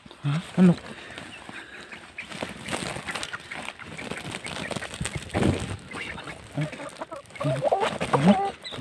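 Chickens cluck and squawk in a noisy, busy outdoor setting, short calls scattered throughout amid rustling and occasional voices.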